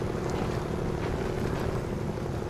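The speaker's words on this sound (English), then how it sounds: "Now I wouldn't be surprised if the engine's losing power because of its water damage." A Kodiak truck engine in a video game labors through water, its damaged engine losing power. It gives a steady, loud, rough droning rumble that holds constant throughout.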